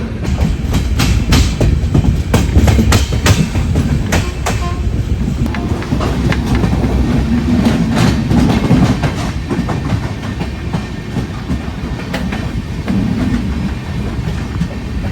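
An electric locomotive train rumbles along the tracks close by near Shivajinagar on the Pune–Panvel line, loud and continuous, with rhythmic clicks and clanks from the wheels over rail joints.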